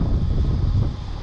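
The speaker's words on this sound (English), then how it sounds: "The wind's blowing that way" Wind rushes over open water on a bass fishing trip, a steady low buffeting roar close to the microphone, with no other sound.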